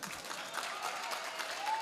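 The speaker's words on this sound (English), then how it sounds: "Can we get an applause for that?" Audience applause at an art game event, a steady wash of many hands clapping for the full short stretch, moderately loud and even.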